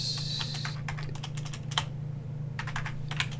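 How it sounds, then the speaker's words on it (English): Quick bursts of clicking keystrokes on a computer keyboard, close and crisp, over a low steady hum, with a short pause before a final few taps. "I'm going to type in"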